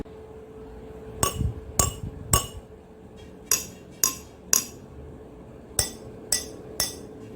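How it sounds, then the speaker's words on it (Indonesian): A spoon taps three glasses, each holding a different water level, in three quick groups of three; each clink rings bright and short with a slightly different pitch, close up in a quiet room. "Ada 3 buah gelas dengan masing-masing tinggi air yang berbeda dan juga sendok."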